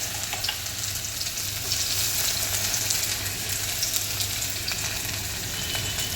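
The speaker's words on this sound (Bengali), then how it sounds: "একবারে পেঁয়াজ কুচিগুলো তেলের মধ্যে দিয়ে দিচ্ছে।" Chopped onions and tomatoes fry in oil in a steady, even hiss of sizzling that holds at a moderate level from start to finish, close and uninterrupted, with no voices.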